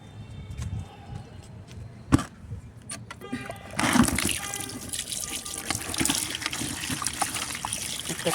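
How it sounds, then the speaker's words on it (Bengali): Water runs and splashes while harvested taro corms are washed on a rooftop, first a soft trickle with a few knocks, then a louder continuous gush from about halfway on. "এখন ধুয়ে দেখি কি অবস্থা।"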